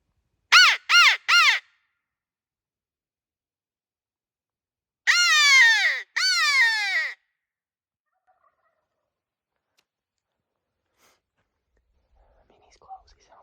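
A wild turkey tom gobbles during a Washington State turkey hunt: three quick, sharp calls, then two longer rattling gobbles, clear and fairly close against near silence.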